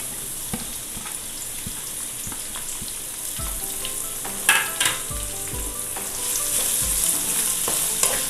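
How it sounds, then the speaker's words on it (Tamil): Onions sizzle and fry with garlic in a hot pan for a Tamil ridge gourd kadaisal, a steady crackling hiss broken by periodic stirring scrapes and a couple of louder clanks, with no voices. "இப்போ நம்ம வெங்காயத்தை சேர்த்துடலாம்."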